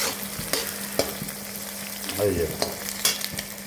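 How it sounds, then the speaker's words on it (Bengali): Eggs frying in a pan, sizzling steadily while being stirred, with soft scraping strokes and clinks recurring every half second or so, close and moderately loud; a brief voice speaks. "ডিম দেওয়ার পরে এইভাবে নাড়াচাড়া করা লাগবে।"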